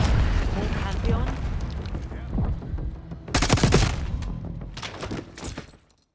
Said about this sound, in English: We've got a hostile with a minigun.